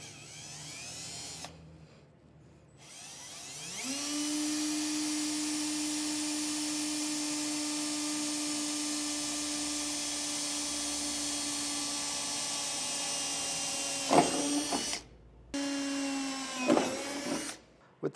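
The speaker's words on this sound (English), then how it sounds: "And we're going to just square this up as much as we can, and then drill down." Power drill boring pilot holes into a corrugated pickup truck bed for 5th wheel hitch base rails, a sustained high whine lasting over ten seconds, then short stop-start bursts as the bit finishes.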